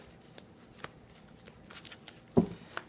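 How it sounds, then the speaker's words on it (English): A tarot deck is shuffled by hand in a few sparse, crisp card riffles and flicks, close and quiet against a hushed room. "And I've already started shuffling"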